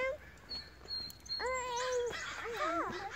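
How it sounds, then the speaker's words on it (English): A few crow caws ring out outdoors, harsh and nasal, spaced over a couple of seconds against a faint breezy background. "Yeah, I hear that crowing."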